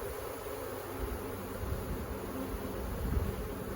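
Agitated honey bees at an opened hive while a new colony is being started, a dense, continuous high buzz of many insects heard up close, fairly quiet and steady, with no talking.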